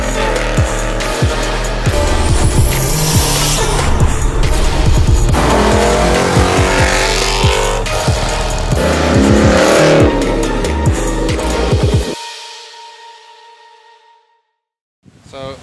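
A Ford muscle car engine revs hard and loud, a deep throaty roar with rising pulls and a brief tire squeal. It runs continuously for about twelve seconds, then the engine cuts and fades away to near silence.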